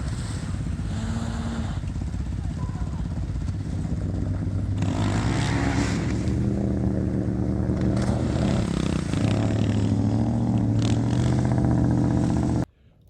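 Vehicle pulling a Ford F-150 out with a non-stretch recovery rope, a loud continuous engine drone that rises and revs over several seconds with clattering, then cuts off abruptly.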